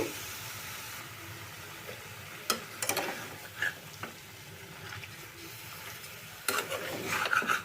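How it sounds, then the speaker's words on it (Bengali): Chicken pieces being stirred and mixed in a pan on high flame, giving soft intermittent scraping and rasping with a few sharper clicks of the spoon against the pan over a steady low background. "পুরো চিকেনটা দেওয়ার পর ভালো করে এটাকে নাড়াচাড়া করে মিশিয়ে দেব"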